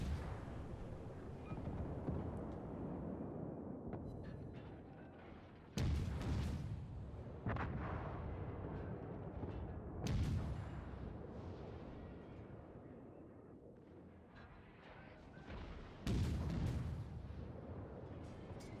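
Heavy warship guns boom in World of Warships naval combat, several loud deep blasts with sharp onsets at irregular intervals over a continuous rumbling battle din, with no talk.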